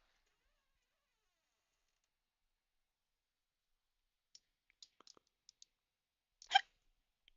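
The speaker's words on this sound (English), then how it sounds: "And now I have the hiccups." A person's hiccup comes once, sharp and close, after a few faint clicks in an otherwise quiet indoor room.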